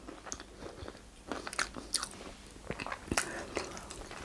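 Someone bites and chews crispy deep-fried masala fish with a spiced coating, giving a run of close, sharp crunches at an irregular pace, with no talking.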